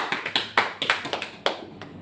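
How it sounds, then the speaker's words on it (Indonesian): A classroom group claps for its presenting group, a sparse, uneven spatter of hand claps with about ten distinct sharp slaps over two seconds, close by and without voices. "Kita kasih aplaus untuk kelompok 1."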